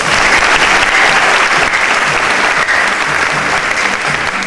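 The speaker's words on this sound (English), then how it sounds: "Let's give them a round of applause." An audience at a coronation fashion show claps steadily for the fashion donors, a dense, loud, even wash of applause that holds for the whole stretch with no voices on top.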